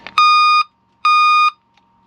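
A household alarm gives two long, loud electronic beeps about a second apart, each a bright steady tone that cuts off cleanly, followed by a very faint short blip in an otherwise quiet room.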